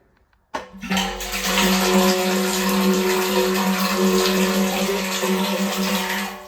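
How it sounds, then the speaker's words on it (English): A hydrophore water pump runs and fills its tank with water, starting abruptly after a short silence and then holding as a loud, steady whooshing rush with a constant motor hum beneath. "So that is how it looks when the pump is working in this vessel."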